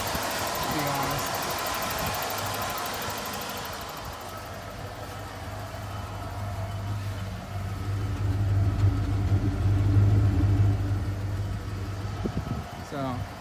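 A car engine idles in a low, steady rumble with a strong drone that grows louder in the second half, as someone talks over it near the start and a few clunks come at the end.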